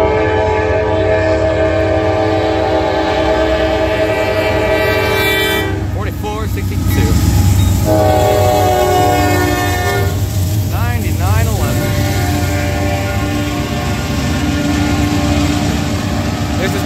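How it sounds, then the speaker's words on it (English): A Norfolk Southern freight tanker train led by three locomotives passes through Tarentum, Pennsylvania, with a loud steady rumble, horn blasts and rolling wagon noise. Someone talks over it near the microphone. "Looks like it's got three on lead. Looks like a tanker train,"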